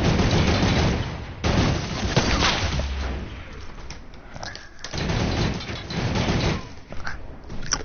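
Rapid turret gunfire in a video game, loud bursts of automatic shots repeating across the clip with brief gaps, dense and close, with no talk over it.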